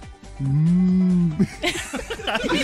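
A voice imitates a cow with one long, low moo lasting about a second, close to the microphone, followed by rustling and background noise on a farm with cows.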